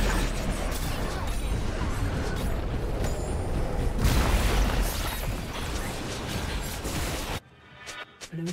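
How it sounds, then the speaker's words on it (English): A turret is destroyed in League of Legends with a loud, sustained booming rumble and crumbling debris for about seven seconds, which then cuts off abruptly to near silence with a few faint sounds. "Blue team's turret has been destroyed."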